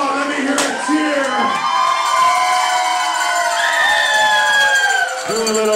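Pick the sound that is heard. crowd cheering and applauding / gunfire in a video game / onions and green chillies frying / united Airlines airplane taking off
crowd cheering and applauding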